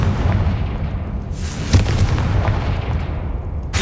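Fiery spell explosions in the video game Hogwarts Legacy give deep booming blasts and crackling bursts, a few loud impacts over a rumbling background.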